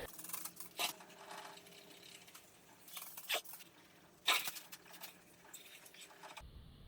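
A Volkswagen MK7 GTI front bumper being sanded by hand with a 1500-grit sanding sponge to blend into the original paint: quiet, soft rasping strokes in irregular bursts, close to the microphone, with no talking.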